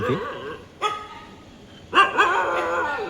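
Dogs bark at night, a few sharp close barks in short bursts with pauses between, followed by a longer whining yelp.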